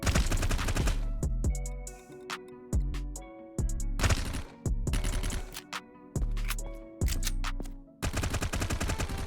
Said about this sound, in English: The MAC-10 is one of my favorite guns for low eco rounds